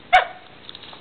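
A dog going mental on a snake lets out a single sharp, loud bark, close and brief, followed by quiet background.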